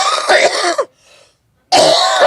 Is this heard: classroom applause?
no